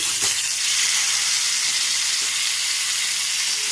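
Raw mango pieces drop into hot oil tempered with spices for a raw mango chutney, setting off a loud, steady sizzle and hiss that runs unbroken throughout with no speech.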